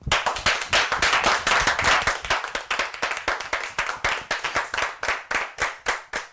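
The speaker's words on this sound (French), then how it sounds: "Pour tout ce qu'ils ont fait, on va les applaudir." A group claps loudly in a brisk, sharp rhythm that gradually thins and slows into separate, distinct claps toward the end, with no talking over it.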